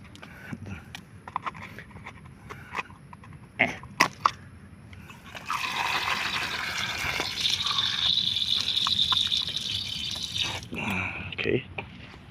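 Water from an outdoor water point sprays down to wash debris away for snail catching. It starts after a few scattered knocks and runs as a steady, fairly loud rush for about five seconds. A voice talks faintly in the background.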